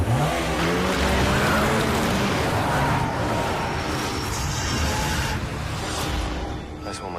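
A car engine revs and roars steadily as the car pulls away, loud and close, with a rough, noisy outdoor background and no clear speech.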